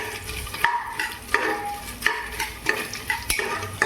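Chopped coconut pieces frying in a pan, a continuous sizzle broken by repeated scraping stirs at roughly regular intervals, close and clear.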